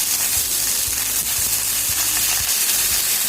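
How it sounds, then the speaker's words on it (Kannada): Tender bael leaf shoots frying in a teaspoon of ghee in a pan, giving a steady, close, loud sizzle with a few soft stirring knocks and no talk. "ಒಂದು ಟೀ ಸ್ಪೂನ್ ತುಪ್ಪವನ್ನು ಹಾಕಿ ಬಾಣಲೆಯಲ್ಲಿ ಈ ಚಿಗುರುಗಳನ್ನು ಹಾಕಿ ಚೆನ್ನಾಗಿ ಸುರಿದುಕೊಳ್ಳಿ"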